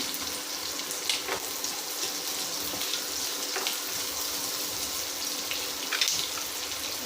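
Chopped small onions and curry leaves sautéing in a pan, a steady close sizzle with a soft hiss that runs on without pause, broken by a few brief clinks and stirring scrapes.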